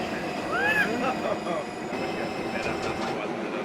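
A holiday train runs in the OpenBVE train simulator game, a low rolling rumble with a brief squeal, heard faintly alongside players talking.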